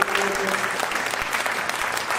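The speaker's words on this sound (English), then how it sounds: "Let's give a round of applause for Mike." Audience applause at a Rock and Roll Fantasy Camp Q&A with drummer Mike Portnoy, a steady dense wash of clapping filling the whole stretch, fairly close and loud, with faint voices underneath.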